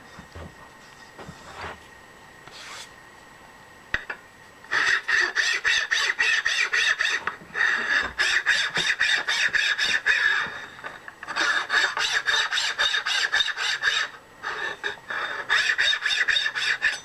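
Rapid rhythmic rasping of a file removing burrs from shims for a 1956 Cummins engine sleeve, in repeated bursts of strokes separated by short pauses, close and clear.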